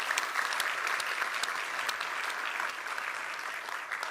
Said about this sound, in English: can I give you a round of applause to everyone here that's made ENS what it is today?